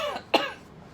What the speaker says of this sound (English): When you sneeze or cough, cover your mouth with the inside of your elbow.